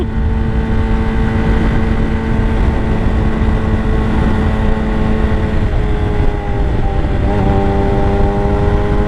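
A Yamaha R6 sport bike ridden with traction control switched off drones loudly and continuously up close, its engine pitch holding steady, then dipping and shifting briefly near the end, with no voices.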